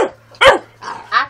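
A 12-week-old puppy gives three or four close, loud, high-pitched yips and barks spaced about half a second apart, with a faint low hum in the background.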